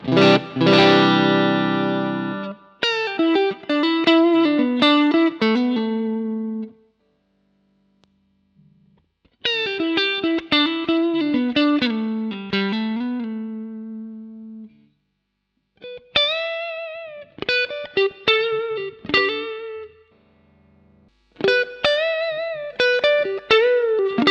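An electric guitar played through a modified MXR CAE boost/overdrive pedal, loud overdriven chords and riffs in several bursts separated by short silences.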